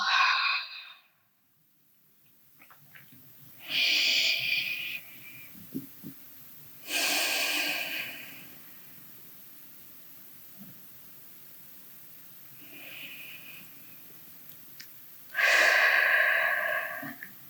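Deep, slow breaths during restorative Pilates stretching on a mat, with several long airy exhales and inhales spaced a few seconds apart, loud and close, with no talking.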